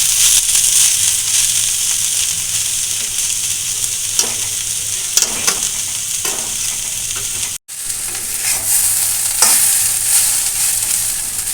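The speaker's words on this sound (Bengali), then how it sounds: "এবার আমি একটু গ্যাসটা বাড়িয়ে দেবো দিয়ে ভালো করে ভেজে নেবো" Banana stem frying in a pan over raised gas, giving a steady, loud, close sizzle throughout, with a few stirring scrapes and one brief dropout partway through.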